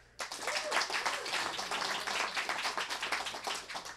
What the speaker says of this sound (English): Just by applause, how many people know Heather?